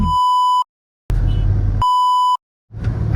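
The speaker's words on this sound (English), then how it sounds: "I intentionally beeped that part" Two steady, high-pitched censor beeps, each about half a second long, separated by brief stretches of muffled background noise.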